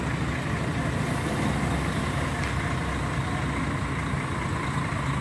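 A heavy truck engine rumbles and idles steadily nearby while the truck maneuvers back and forth toward a loading ramp in a tight space, a continuous low drone with no talk.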